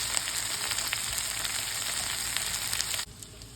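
Vegetables for a lamb head soup sauté in a hot pan with a dense, steady sizzle, close and loud, cutting off abruptly near the end.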